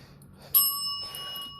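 A single small bell is struck once, giving a bright ringing tone that decays slowly over a quiet room background.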